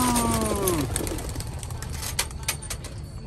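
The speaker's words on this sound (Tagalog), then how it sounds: "Na-release na mga kalapatid." A flock of released pigeons takes off with a rush of flapping wings and scattered coos, loud and close, the wingbeats thinning out as the birds fly away.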